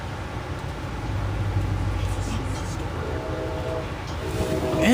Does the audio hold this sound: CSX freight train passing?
yes